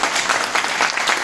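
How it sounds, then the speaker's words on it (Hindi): Loud, dense audience applause at a Hindi-language motivational business talk for a grocery company's team, a continuous wash of many hands clapping close and steady throughout. "इन लोगों के लिए ताली होनी चाहिए।"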